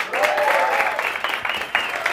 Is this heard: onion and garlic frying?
no